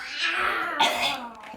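A child does a playful imitation of a coughing rooster, a short burst of raspy cough-like vocal sounds, close and fairly loud, with a brief louder hack near the middle.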